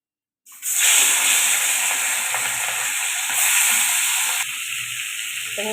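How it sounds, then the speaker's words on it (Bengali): Pieces of hilsa fish hit hot oil in a wok and start frying, bursting into a loud hiss after a moment of silence, then a steady close sizzle that softens slightly near the end. "সব মাছগুলো দিয়ে দিয়েছি খুব বেশি কড়া করে ভাজবো না অল্প করেই ভাজবো"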